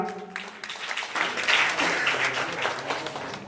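Audience applause at a one-day Constitution Day seminar, a dense, steady patter of many hands clapping at moderate loudness that swells slightly midway and carries on without voices.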